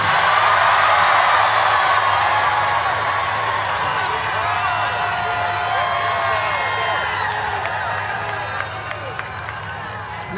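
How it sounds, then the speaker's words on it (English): A rally crowd cheers and whoops throughout, a dense sustained roar of many voices with scattered shouts, loud and continuous from start to finish. "let a random crowd cheer"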